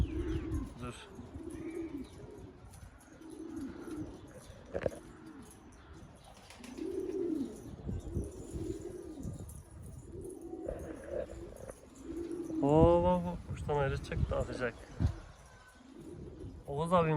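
Pigeons coo repeatedly in low, rolling phrases close by, with chirps and a brief flutter of wings, while people talk intermittently.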